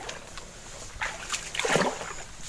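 River current splashing and sloshing over rocks, with irregular bursts of water close by against a steady background rush and no talking.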